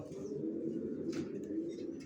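Pigeons of a long-bodied racer breed, young birds just grown to adult size, give a steady low cooing that runs continuously and close at hand, with a brief brighter rustle midway.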